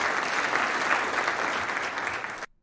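A sustained wash of clapping from a group, dense and even for over two seconds before cutting off abruptly into silence.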